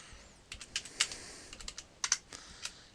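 Keystrokes on a computer keyboard as Linux shell commands are typed, a quick irregular run of close, crisp clicks with short pauses between bursts.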